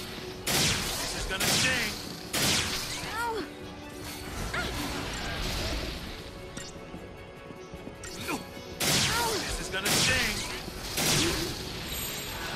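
An enemy's main cannon fires in the Final Fantasy XIII battle. Loud, dense crashing blasts repeat in pulses over a constant roar of battle noise, with game effects layered on top.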